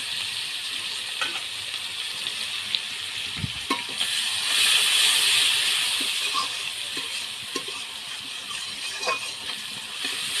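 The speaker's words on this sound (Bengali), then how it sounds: "ওই তেলেই দিয়ে দেব জিরে ফোড়ন, তার মধ্যে দিয়ে দিচ্ছি পেঁয়াজ কুচি করে কাটা" Chopped onion and cumin seeds dropped into hot oil left from frying potatoes, a loud, dense sizzle that swells midway, with occasional scrapes and taps of a spatula in the pan.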